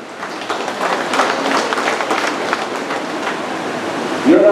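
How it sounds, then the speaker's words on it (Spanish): A crowd applauding steadily at a secondary school graduation ceremony, a dense wash of clapping that holds at an even level throughout. "su compañero John de Osvaldo Sarabia López, quiero que nos den un aplauso"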